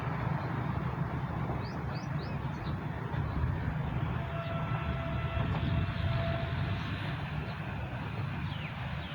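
A train passes Samanabad railway station at speed, a steady, loud, continuous rumble and rail roar throughout, with faint squeals and tones riding on top.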